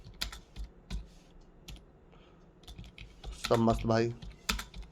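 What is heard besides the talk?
typing on a computer keyboard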